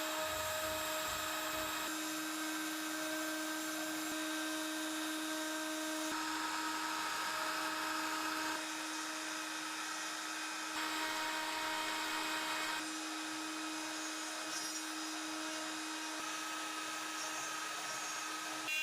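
A Foxalien Vasto XXL CNC router carves a finishing pass with a 2mm tapered ball nose bit: a sustained high spindle whine with steady tones, its cutting noise swelling and easing as the bit moves, with no speech.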